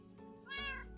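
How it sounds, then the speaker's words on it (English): A cat in Minecraft gives a single clear meow that rises and then falls, heard alone without any talking. "The cat."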